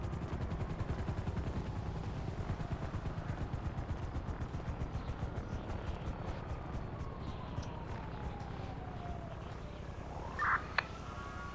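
A Life Flight medical helicopter in the game GTA gives a steady, rhythmic rotor thump for the whole stretch. A thin whistling tone slides downward, and a brief sharp click comes near the end.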